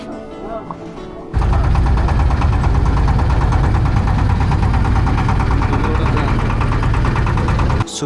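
A small wooden dinghy's engine on the Meghna river starts up after a faint opening and runs loud and close, a steady rapid knocking chug that holds until it cuts off just before the end.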